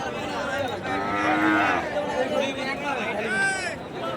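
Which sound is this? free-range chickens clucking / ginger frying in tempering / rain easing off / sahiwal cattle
sahiwal cattle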